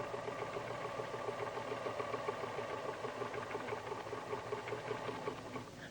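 A PFAFF sewing machine stitches decorative hearts on fabric backed with stabilizer, giving a steady, rapid mechanical whir with a fine repetitive needle tick, close and moderately quiet, running continuously without voices.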